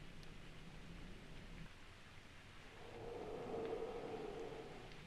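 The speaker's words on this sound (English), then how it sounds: "It says it's sunny. It's fucking raining." Steady video game rainfall hisses continuously, swelling a little louder in the second half, with no voices present.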